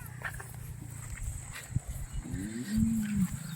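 A dairy cow with six teeth gives one drawn-out, low moo near the end, close by, after a stretch of shuffling farmyard noise and faint background sounds.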